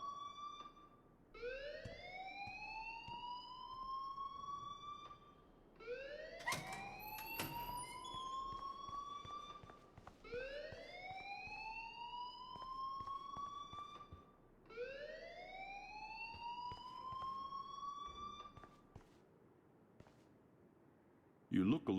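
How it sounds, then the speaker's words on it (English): Rising and falling electronic alarm siren in the video game Life is Strange, repeating in long sweeping cycles, loud and steady, with scattered short clicks and knocks between sweeps. "please turn off that alarm since that's your job"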